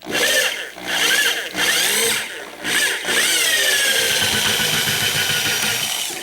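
Power drill boring a hole through a plastic 5-gallon bucket, loud close whine that starts and stops in short bursts before settling into a sustained run as the bit cuts through.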